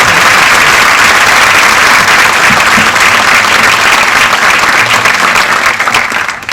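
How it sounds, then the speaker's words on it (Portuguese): Sustained applause from a conference audience, dense and loud throughout, tapering slightly at the very end with no talking over it. "E a salva de palmas aqui para esse pessoal aqui,"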